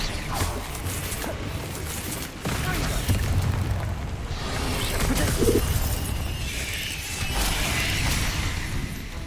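Confringo fire curse cast in Hogwarts Legacy, a busy stretch of crackling blasts and smashing impacts over a steady rumbling game background, moderately loud with no clear single peak.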